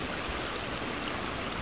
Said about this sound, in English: If you're wondering if you can hear running water